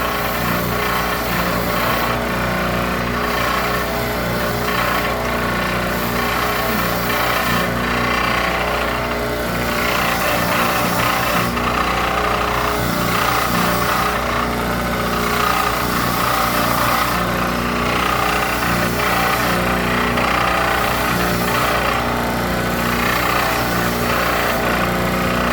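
A wire wheel grinding a metal solenoid part during a boat repair, a loud, continuous abrasive whirring that holds steady for the whole stretch with no talk over it.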